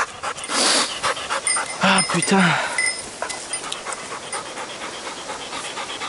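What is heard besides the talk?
hunting dog panting after retrieving a bird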